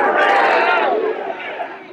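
A large crowd at a US state welcome for India's prime minister cheers and chants "USA" in unison, a loud, roaring mass of voices that eases off slightly toward the end.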